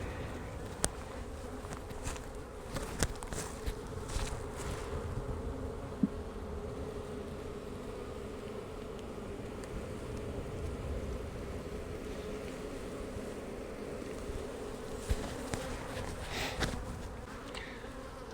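Honey bees from an opened hive keep up a continuous, even buzzing drone throughout, with occasional light knocks and clicks of frames being handled and no talk.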